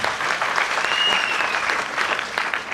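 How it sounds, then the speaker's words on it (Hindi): Audience at a ChampCash seminar in Delhi applauds steadily, a dense wash of clapping sustained at even loudness throughout, with a faint whistle-like tone rising over it midway. "एक बार ताली हो जाए"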